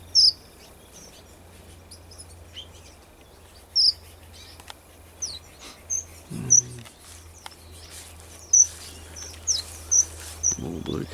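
Aviary finches, including strawberry finches and blue caps, give short high chirps scattered through a steady low hum, faint to moderate and irregular, with a brief voice now and then.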